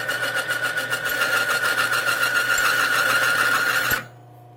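Timken bearing test machine running dry under load, a steady mechanical whir and grinding drone that abruptly stops near the end as the bearing seizes, with no talk.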